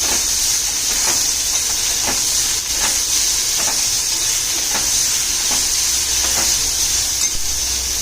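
Steady loud sizzling of chopped onions frying in hot oil with garlic, a constant hiss with faint periodic stirring clicks throughout.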